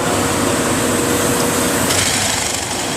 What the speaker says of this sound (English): start up the drill, and go down slowly